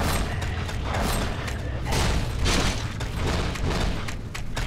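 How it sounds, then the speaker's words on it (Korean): Bursts of gunfire in the Counter-Strike Online 2 zombie mode, fairly close, with mechanical clanking and booming shots in irregular clusters under the game's continuous noise. "총소리, 총소리, 총소리,"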